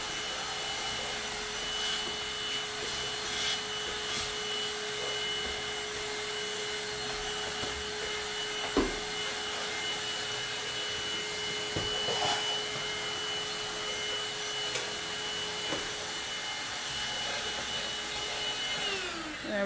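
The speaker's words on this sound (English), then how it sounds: "And now I'm just gonna do a quick vacuum where the birds have already" Vacuum cleaner cleaning up bird mess around a birdcage, a steady loud whine and roar running throughout with occasional bumps and knocks as the nozzle moves.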